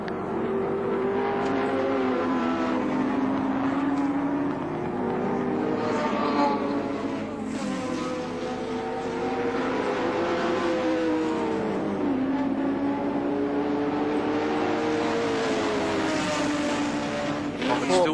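A Nissan touring car driven hard at Oran Park during a 1983 Australian Touring Car Championship race: a continuous engine note rising and falling through gear changes, fairly distant, with commentary running over it throughout.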